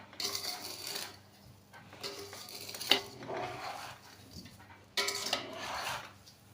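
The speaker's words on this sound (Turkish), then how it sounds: "Şimdi çileğimi fazla zedelemeden bir karıştıracağım." Strawberries being gently stirred with sugar in a pot, quiet scraping and clinking of a utensil against the pot in a few short bursts with pauses, fairly close and soft.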